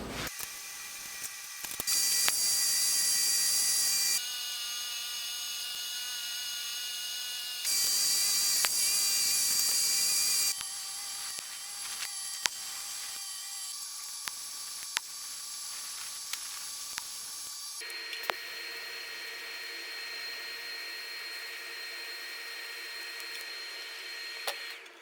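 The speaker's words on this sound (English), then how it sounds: "Let's get this thing welded up." A steel Gobi ladder for a 4Runner being welded, with harsh hissing, buzzing arcs that start and stop in several long bursts, close and fairly loud, with no voices.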